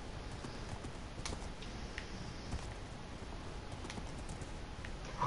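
A horse's hooves clopping in a video game, a quick steady clip-clop rhythm close by and fairly faint, with no talk.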